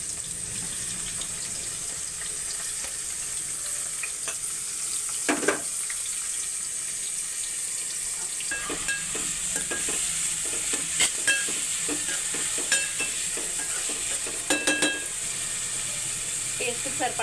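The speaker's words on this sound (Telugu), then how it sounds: "ఆయిల్ వేడెక్కిన తర్వాత ఉల్లిపాయలు, టమాటా, పచ్చిమిరపకాయలు కూడా వేసుకోవాలి." Onions, tomatoes and green chillies fry in hot oil for a prawn and okra curry, giving a steady close sizzle with occasional stirring clatters and scrapes.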